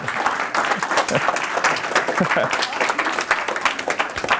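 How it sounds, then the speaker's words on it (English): A crowd claps loudly and continuously, a thick patter of many hands with a few voices mixed in underneath. "How about a round of applause?"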